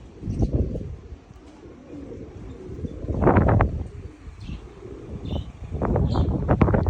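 Pigeons cooing and calling outdoors in strong wind, several short bird calls and coos at varied distances over a steady gusty wind rush, with a few brief flutters.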